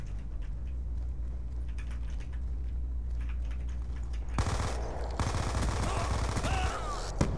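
Gunfire in Black Ops 2 played on PC: a steady bed of rapid, faint shots and clicks, then a much louder burst of automatic fire breaking in near the end.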